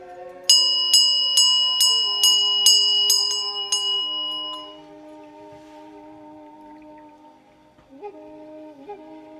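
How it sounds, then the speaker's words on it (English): A bell rings about eight times in a steady rhythm, bright and clear, then its tones fade into a lingering sustained hum with a few softer chimes. "Can you hear the bell?"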